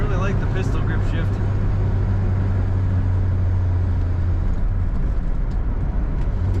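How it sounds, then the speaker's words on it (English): Exhaust of a 1965 Chrysler Newport while driving, a steady low droning rumble heard from inside the car, continuous and fairly loud, with no one talking over it. "This car has a good exhaust sound."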